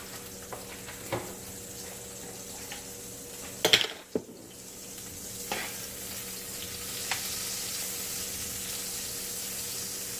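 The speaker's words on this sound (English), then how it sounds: "I'm gonna add about 2 tablespoons of butter" Butter sizzles in a heavy Dutch pot with a little olive oil, giving a steady soft frying hiss with scattered crackles, a burst of clattering and scraping near the middle, and a few later knocks.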